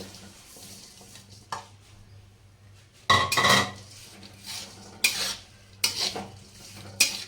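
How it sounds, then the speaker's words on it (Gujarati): Jaggery goes into hot ghee in a pan while making gundar pak and is stirred over low heat. Several distinct bursts of scraping and clinking utensil strokes stand out against a quiet background with a faint hum. "ઘી ગરમ થઈ ગયું હવે આપણે ગોળ નાખીશું અંદર"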